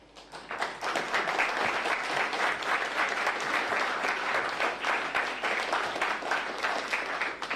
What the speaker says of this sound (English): Thank you for your kind applause.